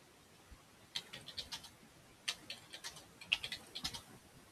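Someone types commands on a computer keyboard while logging into a Linux From Scratch system, producing quiet, close clusters of quick key clicks in short irregular bursts with brief pauses between.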